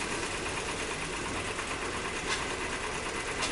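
A Nissan Maxima engine idles roughly during a cylinder drop test while being checked for a misfire, giving a steady, close mechanical chatter and rumble with faint uneven knocks and no talk.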